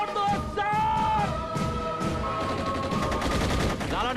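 Gunfire in a Hindi film scene, bursts of shots ringing out amid shouting voices, with a man's raised speech over the loud, chaotic action throughout.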